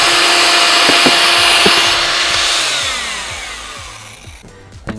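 Power drill with a whisk attachment mixing plaster bonding coat in a bucket, a loud whirring motor that winds down and fades toward the end, with a few knocks against the bucket.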